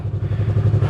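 A motorcycle engine runs at night just after being started, a steady, close mid-pitched throb with a slightly uneven, pulsing idle rhythm and no talking over it.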